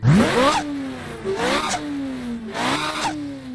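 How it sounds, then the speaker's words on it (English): A sports car engine in the Roblox game Midnight Chasers revs hard three times in quick succession, each rev sweeping up sharply then dropping back to a steady growl, loud and close. "It's the revs that really are like pretty cool though."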